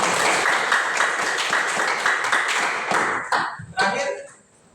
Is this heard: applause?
yes